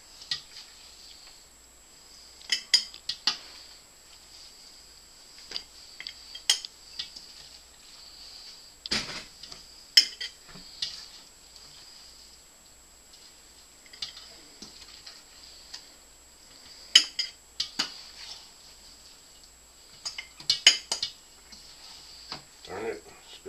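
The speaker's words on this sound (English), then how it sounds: "It's time to mash it in the jar." Fermented vegetables are pressed into a glass jar by hand, giving scattered soft thuds and sharp clicks of glass against utensil, some close and loud, over a quiet room with a faint steady hum.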